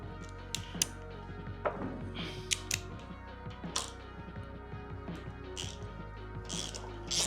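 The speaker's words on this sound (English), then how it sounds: "And just loosen up the pinch bolts." A ratchet wrench loosens the fork pinch bolts on a Harley-Davidson Sportster Forty-Eight, giving close, crisp clicks and metallic taps in irregular bursts, with no talking.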